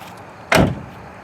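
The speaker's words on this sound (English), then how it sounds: "of course it's really loud when we open them up" A single loud clunk of a custom show car's door being opened, short and close, against a quiet background.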